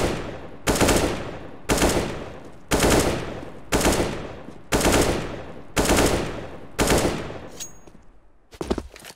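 Gunshots in the CS:GO video game ring out one at a time, about one per second, eight loud close reports each with a decaying tail, then a faint metallic click and a final shot.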